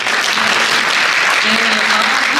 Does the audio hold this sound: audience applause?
yes